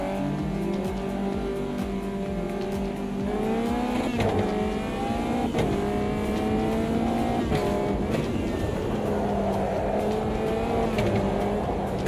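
Caterham Superlights race car engine in a racing video game at Brands Hatch at night, a steady high-revving drone with gear-change dips and climbs, loud and continuous throughout.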